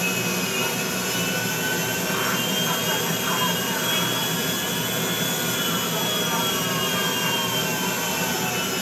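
Loud, steady roar of a commercial airliner jet engine in the video game GTA V, a constant broadband whine and rumble that holds unchanged from start to finish with no pauses.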